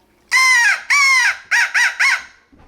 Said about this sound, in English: And then we got a crow call, locator call.